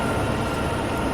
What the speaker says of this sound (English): the sound isn't quite realistic. It's been modified from another locomotive.